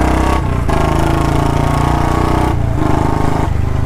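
A motorcycle engine revs loudly and steadily with close, throbbing tone, easing briefly twice before surging back up, with no talking over it.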